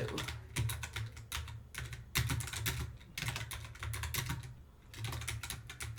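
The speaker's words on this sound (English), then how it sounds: "I know it's kind of boring when I'm typing" Rapid, continuous clicking of keys on a computer keyboard, close up, with brief pauses between bursts of typing.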